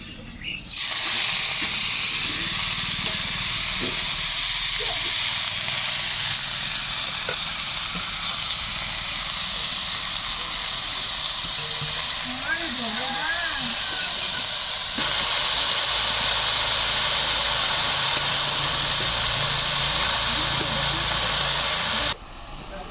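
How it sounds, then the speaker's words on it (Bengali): Chopped leafy greens drop into hot oil and set off a loud, steady sizzle that hisses without a break for over twenty seconds and briefly swells louder near the end. "তেলটা গরম হয়ে গেছে, এখন দিয়ে দেবো কেটে রাখা শাকগুলো।"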